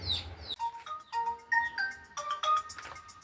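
A mobile phone rings with a bright electronic melody of short, stepped tones. The notes come in quick phrases with brief gaps between them, loud and close.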